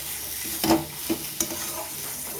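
Ground roasted black cumin and whole cumin being stirred in a pan for a fish curry, with soft scraping strokes and a low sizzle, a few louder spoon clinks near the start.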